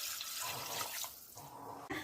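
Water pours steadily into a cooking pot for chicken rasam, a close continuous gush that shifts in tone partway through and stops with a brief clatter at the end.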